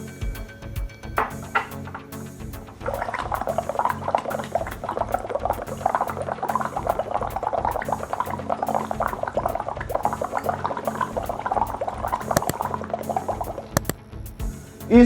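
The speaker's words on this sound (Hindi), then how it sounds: "इस तरीके से पाइप के द्वारा आपको लंबी सांस धीरे धीरे धीरे धीरे छोड़ते रहना है और पानी के माध्यम से ये एक्सरसाइज करनी है" Air blown through a straw or pipe into a glass of water as a breathing exercise makes a long, continuous bubbling and gurgling that starts after a few seconds and runs steadily near the microphone.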